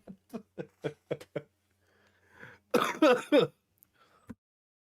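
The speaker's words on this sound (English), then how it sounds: "The cough will go away in time." A string of short, sharp coughs in quick succession, then a few heavier, rougher throat-clearing bursts, followed by a single faint cough.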